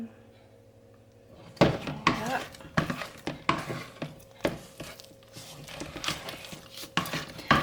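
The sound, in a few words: stirring homemade playdough in a pan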